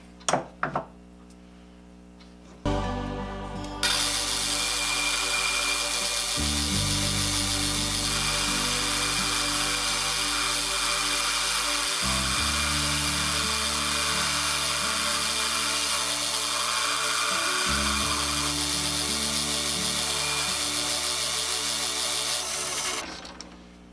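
A lathe turns and cuts a band saw axle. A few knocks come first, then the motor spins up into a steady, loud whine with a cutting hiss. The pitch shifts a few times as the cut goes on.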